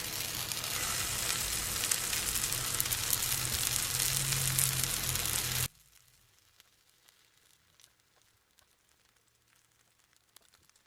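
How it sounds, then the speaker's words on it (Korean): Hotteok, keto-style pancakes made with cassava starch, fry in generous oil in a preheated cast iron pan with a loud, dense, steady sizzle for about half the span, then the sound cuts abruptly to near silence. "오븐을 달군 무쇠팬에 기름을 넉넉히 두르고 호떡을 넣어주세요."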